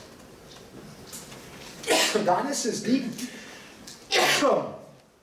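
A person sneezes loudly and close by, two sharp bursts a couple of seconds apart, between stretches of speech.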